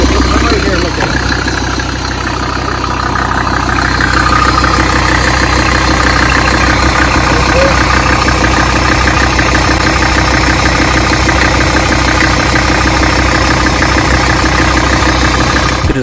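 A Mercedes diesel engine swapped into a Jeep Wrangler idles steadily at running temperature, a loud, constant low rumble with a faint knocking texture that holds unbroken throughout.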